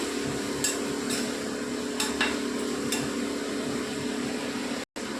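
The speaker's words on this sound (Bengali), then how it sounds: "এটা নিয়ে একটু ভালো করে নাড়াচাড়া করবেন" Ground coriander and chili powder stirred in a pan over low heat, with a few soft scraping strokes against a steady background hum and a brief dropout near the end.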